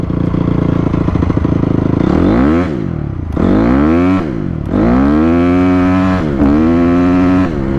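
A Honda CRF250R dirt bike accelerating hard at three-quarter throttle, loud and close, in several rising engine bursts, each climbing in pitch before dropping off as it shifts, with a clattering edge.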